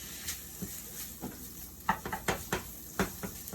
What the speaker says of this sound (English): I'm just gonna throw the ham in, just to give it a different flavor profile